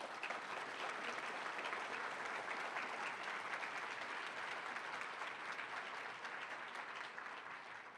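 A large audience applauds steadily, a dense and even wash of clapping at a gubernatorial debate forum as the candidates are welcomed, no voices heard over it.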